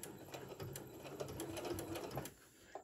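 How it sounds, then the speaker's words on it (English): A sewing machine stitches extra seams along a fabric pencil case, producing a steady close rapid mechanical chatter that runs for about two seconds before stopping. "I'm going to sew over it again because I want to have extra seams on here"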